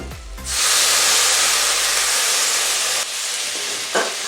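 Spices for a desi chicken curry, including turmeric, black pepper and Kashmiri chilli powder, hit the hot pan with a sudden loud hiss that holds steady, then drops slightly and ends with a brief clatter.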